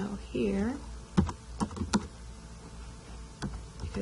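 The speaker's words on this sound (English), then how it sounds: "So I will type in someone's email here" Email address being typed on a computer keyboard, a short run of close key clicks in an uneven rhythm, following a brief stretch of speech.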